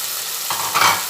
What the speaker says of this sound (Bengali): এবার আবার পটলের সঙ্গে ছানা একসঙ্গে মিশিয়ে ভালোভাবে একটু নাড়াচাড়া করে নিচ্ছি